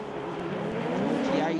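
Rallycross race cars on an Andros Trophy track, with an engine roar that holds steady and builds slightly as one car passes another, heard under continuous commentary.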